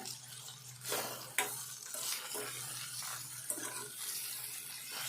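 Spices fry in a pan for a Telangana drumstick and green chilli curry, with a soft sizzle under several sharp scraping stirs and clinks of a spoon, quiet and close, with no talking.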